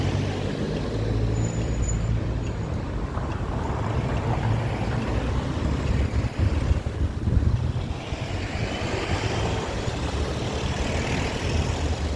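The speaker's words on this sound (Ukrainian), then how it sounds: "і знов вітер, знов вітер" Steady winter wind rushes across the microphone with a constant low rumble, fairly loud and unbroken, no voices, in the Netherlands.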